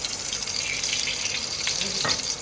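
Oil and desi ghee sizzle in a pan, a close, dense frying hiss that stays steady through a couple of seconds.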